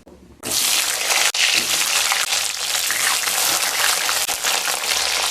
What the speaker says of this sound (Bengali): এবার পটলগুলোকে ভেজে নেব